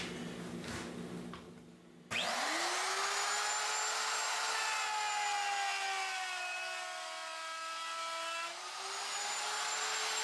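Power saw cutting material for a platform bed, a sharp onset after quieter shop noise into a loud sustained whining drone, close and continuous with slight pitch shifts as the blade bites.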